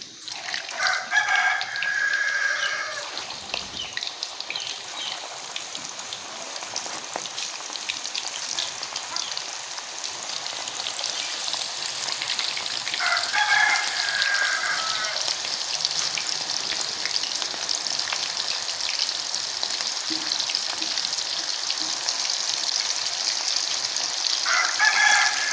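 Food fries steadily in hot ghee in a kadai, a dense continuous sizzle that holds throughout, while a rooster crows faintly in the background several times.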